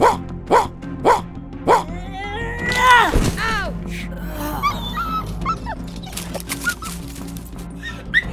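A puppy in the Roblox game Brookhaven gives a string of short, close yips and barks, then a whimpering whine, with more small yaps afterward and some speech mixed in.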